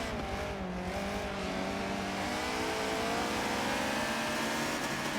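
Honda S2000 race car accelerating hard out of a corner at Sebring, a loud sustained engine note rising steadily in pitch, close and continuous with no voices.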